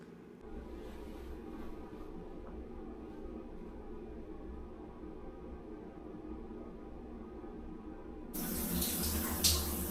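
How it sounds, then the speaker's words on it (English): A shower runs with a steady, even hiss of falling water that grows noticeably louder and brighter in the last couple of seconds, with no talking. "Don't mind me, just getting a shower."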